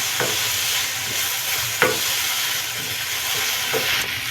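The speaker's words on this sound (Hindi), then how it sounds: "इसको मिला लेंगे चटनी को अच्छी तरह से।" Veg fried rice in a hot pan, street style, being mixed with Schezwan chutney: a constant loud sizzle runs underneath while a spatula scrapes and taps against the pan every second or so.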